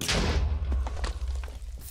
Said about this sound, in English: That was a large explosion.